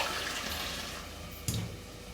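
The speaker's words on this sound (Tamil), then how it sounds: "3 டம்ளர் தண்ணி ஊற்றியாச்சு." Water poured from a tumbler into a cooking pot while making rice upma, a steady broadband splashing stream heard up close, with a brief louder splash near the end and no talk.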